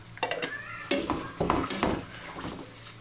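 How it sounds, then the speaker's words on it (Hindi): Two large sliced onions with a little salt go into hot oil for mutton korma, a few bursts of sizzling and stirring clatter that rise and fall, fairly close, without any speech. "ऑयल गर्म हो गया और अब इसमें शामिल करूँगी 2 अदद बड़ी प्याज"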